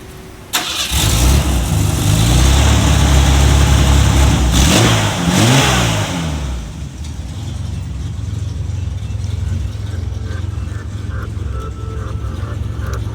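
A car engine cranks and catches, revving loudly for several seconds before settling into a steadier, quieter drive hum, heard up close at a gas stop with no talk.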